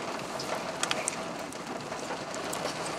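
Light rain falls outdoors as a steady, soft hiss, with a few brief drip-like taps standing out near the start and middle, and no voices.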